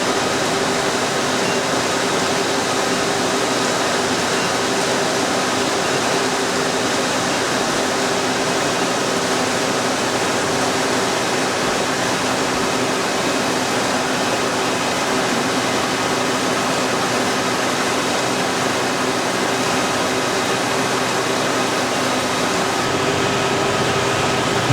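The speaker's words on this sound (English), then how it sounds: "this drum does appear to be involved in the drying process" A rotating drum tea dryer runs inside a Nilgiri tea factory, giving a loud, unbroken mechanical roar with a steady hum and no pauses.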